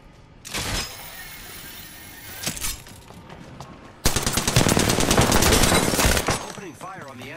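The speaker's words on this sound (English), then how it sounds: "Opening fire on the enemy." Automatic weapon fire in the Apex Legends video game, a short burst early then a long sustained loud volley of rapid shots, with brief bursts between and a game voice line near the end.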